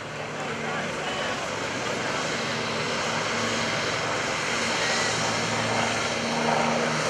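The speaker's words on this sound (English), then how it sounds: "they introduced this aircraft back in March of 1953" A T-34 Mentor propeller airplane, a type dating from 1953, flies over a lakeside airshow, its engine drone filling the air as a steady, loud, continuous roar that swells slightly near the end.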